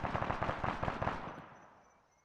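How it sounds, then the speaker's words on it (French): A rapid string of crackling explosions and gunfire-like pops from an Arma 3 military simulation battle, sharp repeated bursts for about a second before tailing off into fading rumble. "Ok, il y a des explosions."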